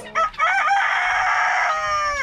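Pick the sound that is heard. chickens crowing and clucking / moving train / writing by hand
chickens crowing and clucking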